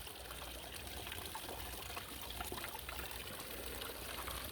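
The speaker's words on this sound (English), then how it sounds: "Right now the water is at a low level, so it's the pump's at a low level. So you can see it's just a trickle" A pumped garden pond waterfall with a small cave beneath runs at low flow, giving a soft, continuous trickle and splash of water, faint and steady throughout with no voices.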